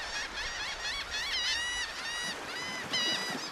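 Noisy flocks of laughing gulls along the Gulf coast of the Mississippi River, giving faint, repeated nasal calls that rise and fall over a soft outdoor background, with no one speaking.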